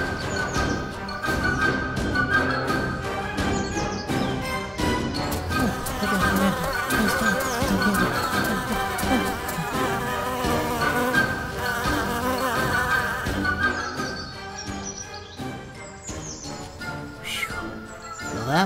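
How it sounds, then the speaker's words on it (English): A bee buzzing in an animated short film, a loud continuous drone layered with music throughout, fading slightly toward the end. "I was running from a bee that was chasing me"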